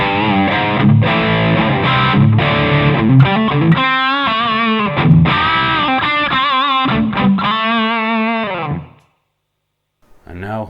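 An electric guitar through a Rothwell Switchblade distortion pedal plays bright, crunchy chords and sustained notes with a rock tone, continuous and loud, stopping briefly before a final strum.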